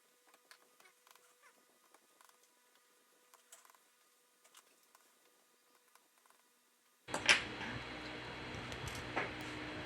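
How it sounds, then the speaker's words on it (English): Small screws being released from the top of a Realme 5i phone during a charging port repair, with faint sparse ticks and clicks of a small screwdriver, then a sudden louder burst of handling noise near the end. "We release the screws from the top of the device"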